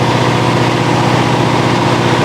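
A Corvette C4 ZR-1, a barn find fitted with a new alternator, idles with a loud, steady engine drone that holds constant throughout, close by.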